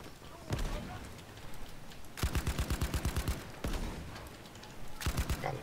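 Rapid automatic gunfire in Battlefield V, with several fast rhythmic bursts of evenly spaced shots separated by short gaps, as a player talks quietly underneath.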